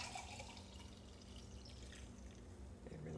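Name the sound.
pouring frothy keto bulletproof coffee into a cup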